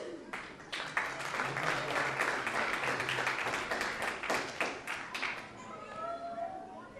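Applause from the audience at a police department awards ceremony, a full round of clapping with distinct individual claps standing out, building quickly and tapering off near the end as a voice briefly picks up.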